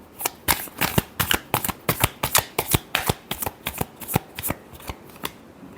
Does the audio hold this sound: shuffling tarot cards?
yes